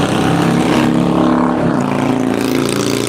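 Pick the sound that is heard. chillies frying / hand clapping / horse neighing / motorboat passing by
motorboat passing by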